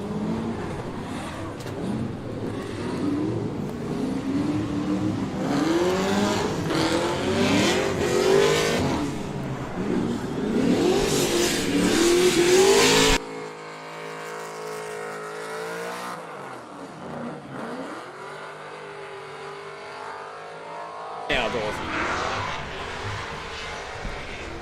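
Drift car engine revving hard with its muffler come off at a Superdrift event, a loud raw sweep of rising and falling revs up close, then a shift to a rougher, buzzy idle-like drone before revving picks up again.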